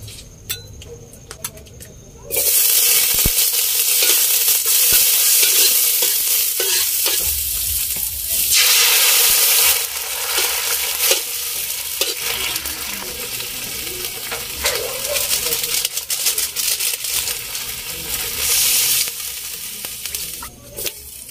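Sardines and chayote frying in oil in a pan, with a loud, steady sizzle that starts abruptly after a quiet opening and continues close up, with no talking.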